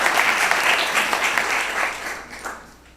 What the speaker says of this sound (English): We clap extra for them because they review all of our decisions.